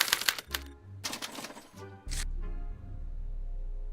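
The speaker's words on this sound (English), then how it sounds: "As the responses are recorded, they're relayed to this special typewriter, which prints out a punch card that represents the subject's mind map" A special typewriter in the Back to the Future video game hammers out a punch card in rapid clattering bursts of keystrikes and carriage clunks, then settles into a steady low mechanical hum.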